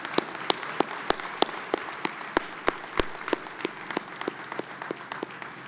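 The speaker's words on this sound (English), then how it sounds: "And for this, you all deserve a big round of applause." Applause from a seated audience at a university convocation ceremony for an inaugural business school class, a thin steady patter of individual claps, moderately distant and fairly quiet, with no voices.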